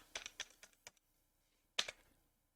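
Several quick keystrokes on a computer keyboard as an amount is typed into a crypto trading screen, a short burst of taps, a pause, then a final cluster of clicks, close and fairly quiet.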